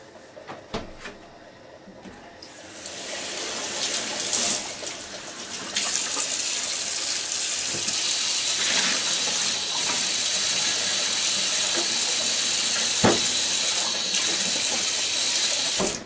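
A cup is rinsed under running tap water, starting with quieter handling noises, then a steady, close splashing stream that fills the rest of the time with no talk.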